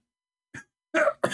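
A man coughs during a live debate: a short light cough followed by two harsher, louder coughs in quick succession, close and alone.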